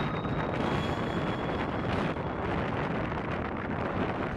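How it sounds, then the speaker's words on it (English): Strong, gusty wind during a weather warning in Mexico, a loud continuous roar buffeting the microphone with shifting surges and no pause. "that morning we woke up to a weather warning, and the wind sounded more like this"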